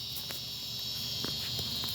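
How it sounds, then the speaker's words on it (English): Cicadas droning outdoors during an epoxy resin pour, a steady high-pitched buzzing that fills the background at moderate level, with a few faint clicks and rustles on top. "I don't know if you can hear me over the cicadas"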